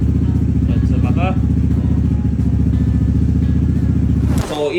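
A Honda ADV160 scooter engine runs close by with a loud, steady throbbing idle, a voice speaking over it, then the engine note drops near the end.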